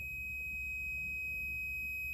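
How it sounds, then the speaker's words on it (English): A multimeter on a continuity test emits a continuous high electronic beep, held steady throughout over a low background hum, while checking parts for a 4L80e transmission transbrake fault. "Yeah, she's beeping."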